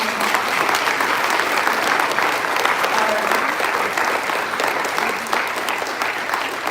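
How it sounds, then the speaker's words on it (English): A crowd at a congressional town hall applauds for immigration attorneys, a full, sustained roar of clapping that stays loud and even from start to finish. "let's give a round of applause for"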